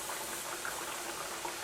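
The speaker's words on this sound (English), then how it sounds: "Let it start frying up." Chicken breast pieces fry in hot oil with a steady, soft, even sizzle and faint crackle that neither swells nor fades. No voices are heard.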